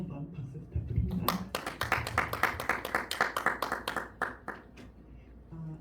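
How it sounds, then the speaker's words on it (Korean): An audience in a lecture hall claps for a professor after his talk, a brisk burst of hand claps lasting a few seconds that tapers off, with a voice speaking briefly just before it starts. "김만규 교수님께 다시 한번 박수 부탁드립니다"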